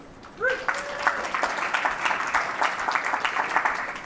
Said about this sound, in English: Now, I think that deserves a clap.